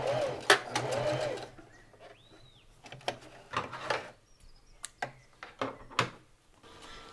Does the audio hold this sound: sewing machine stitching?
yes